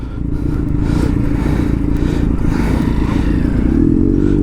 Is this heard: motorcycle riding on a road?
yes